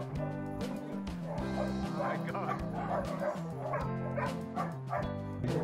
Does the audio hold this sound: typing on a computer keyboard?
no